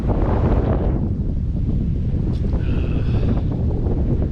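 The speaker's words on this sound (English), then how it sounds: "Nice to get a little wind for a change" Wind blows hard across the microphone on a forest hike in Black Rock Forest, New York, making a loud, continuous low rumble and buffeting throughout.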